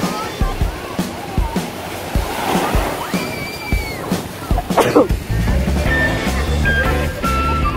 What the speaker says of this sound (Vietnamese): Wow, sóng biển nó đập cao quá.